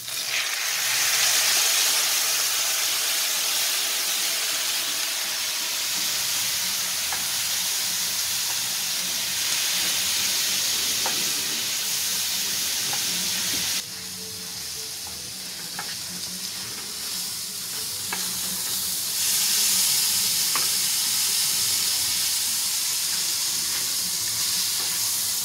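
Tomato goes into a hot pan of rice with a continuous bright sizzle that swells after each addition, with occasional light utensil taps and stirring.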